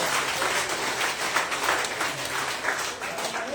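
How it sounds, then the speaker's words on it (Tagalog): A church congregation claps together in praise, a steady, dense wash of applause filling the room throughout, with faint voices mixed in underneath. "sabay palakpak kay Lord"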